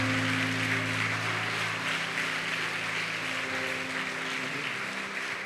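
Church congregation applauding together, a dense steady wash of clapping under a faint sustained organ or keyboard chord, fairly quiet and continuous throughout.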